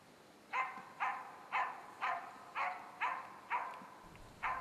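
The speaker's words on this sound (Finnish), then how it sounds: "Koiran haukku rävähtää jostain etumaastosta." A bird dog barks in a forest, eight sharp, evenly spaced barks about half a second apart, carrying clearly from a moderate distance over quiet woodland.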